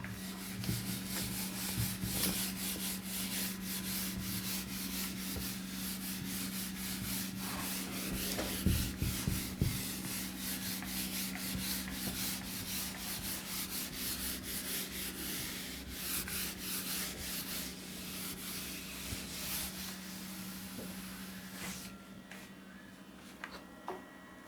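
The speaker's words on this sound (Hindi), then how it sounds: "तो इसको रब कर दे रही हूँ।" An eraser or duster rubs out chalk writing on a classroom board with steady scrubbing strokes, close and fairly quiet, continuing for a long stretch with no one talking.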